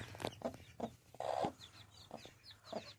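Soft clucks and chirps from a hen and small chicks, scattered short calls close by with a brief louder squawk partway through.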